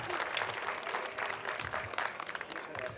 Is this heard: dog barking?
no